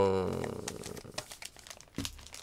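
Pokémon booster packs being opened at close range, with crisp foil crinkling and tearing in short bursts following a brief voice at the start.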